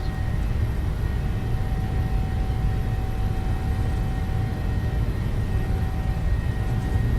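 A PMDG 737-700 on its takeoff roll in Microsoft Flight Simulator, a steady roaring engine rumble with a thin high whine, continuous and even throughout with no voices.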